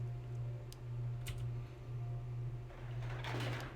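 A door creaks open in the tactical game Jagged Alliance 2, a short scraping rush near the end over a steady low electrical hum, with a few soft clicks before it.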